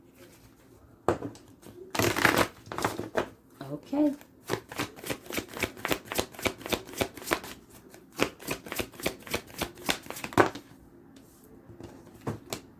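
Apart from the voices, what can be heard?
shuffling a deck of cards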